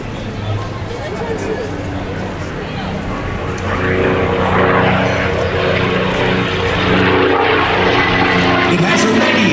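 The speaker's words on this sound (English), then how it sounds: "Listen to the sound of this engine." A P-51 Mustang's Rolls-Royce-designed V12 propeller engine roars overhead at an air show, a deep droning growl that swells louder midway and stays strong, with crowd chatter faintly underneath.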